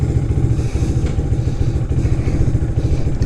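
A motorcycle engine on a back-road ride, fitted with a V3 beta tune, running close and loud with a steady throbbing rumble and mechanical clatter for the whole short stretch.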